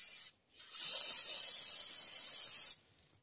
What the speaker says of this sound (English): we're gonna spray that again with the brake clean